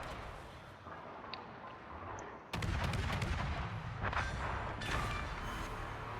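Warship guns boom in a naval video game, heavy blasts erupting partway through and rolling on in repeated bursts over a low hum.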